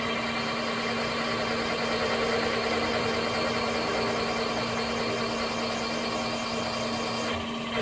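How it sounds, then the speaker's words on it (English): A machine counter-bores a 6-inch-diameter 1018 steel hub with a steady, loud mechanical drone and a constant low tonal hum, unbroken until a brief shift near the end. "Let's see what happens here when I counter bore"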